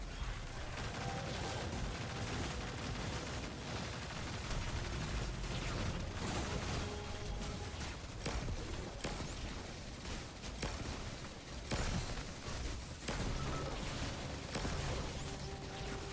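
Auto rifle fire crackles through a Destiny 2 raid in Deep Stone Crypt, with rapid bursts, explosions and clattering game effects layered densely for the whole stretch.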